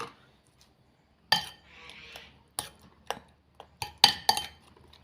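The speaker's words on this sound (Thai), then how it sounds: "เดี๋ยวเราคนคลุกเคล้าให้เข้ากันเลยค่ะ" A spoon clinks and scrapes against a bowl while stirring fermented wild amanita mushroom mix, a Thai naem, with several sharp taps and a soft scraping stretch, close and clear with no talking.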